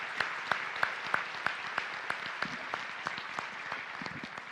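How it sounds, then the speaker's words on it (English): Applause from the audience at the Hidalgo County State of the County Address, a steady wash of clapping with sharper individual claps standing out in a fairly regular rhythm, heard at a moderate distance and with no talking. "Let's please give them a round of applause"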